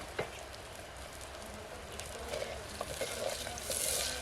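Onions frying in a pan during village-style Gujarati cooking of a fenugreek seed curry, a steady soft sizzle with light crackles and occasional stirring clinks, fairly quiet and continuous without talk.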